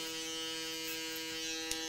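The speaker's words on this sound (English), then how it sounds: "I'm just gonna blend into it with my foil shaver" An electric foil shaver buzzes steadily and close while blending a low taper fade haircut, a continuous high-pitched motor whine with a brief click near the end.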